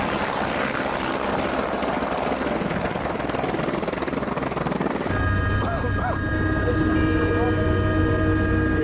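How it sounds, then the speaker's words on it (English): A helicopter's rotor thumps steadily and loudly nearby on Mount Everest after an earthquake, with a voice briefly speaking over the droning engine partway through. "Then another helicopter gets through."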